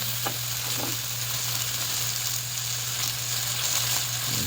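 Milkfish (bangus) with tomato and fish sauce fries in a pan, a steady, moderately loud sizzle with a few light stirring knocks and a low constant hum beneath.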